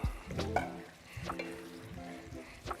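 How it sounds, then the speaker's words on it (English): Homemade ramen sizzles faintly in a hot pan as it is stirred and mixed, soft frying crackle with a few scraping strokes of a utensil, quiet and close. "Still got the heat on underneath the bottom, just mixing everything up."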